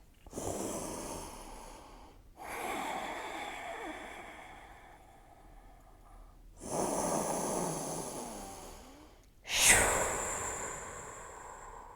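A voice imitates snoring, with several long, breathy snorts repeating at a slow, even pace, close and fairly loud.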